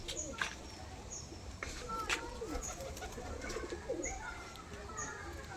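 A pair of Face of Beauty pigeons, a kasuri hen and a golden kasuri cock, give soft low coos close by against a murmuring indoor background.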